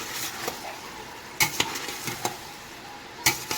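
Red beans mixture cooking in a pot over medium-high heat, a low steady sizzle broken by sharp scraping clinks of a spoon stirring against the pot, close and moderately loud.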